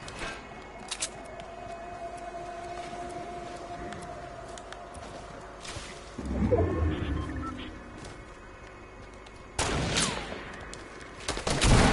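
Gunfire in the Fortnite video game: scattered shots with a couple of louder bursts near the middle and end, over a steady background hum, with no talk.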